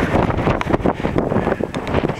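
Blustery wind buffets the microphone at Dee Wright Observatory, overlooking a snow-covered lava field, with steady loud rumbling gusts throughout and no clear talk.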